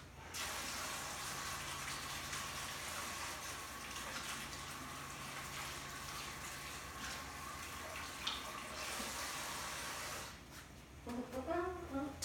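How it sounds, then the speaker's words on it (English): Water running from a tap during handwashing, a steady close hiss and splash for about ten seconds that cuts off, followed by some faint movement sounds. "And then wash my hands."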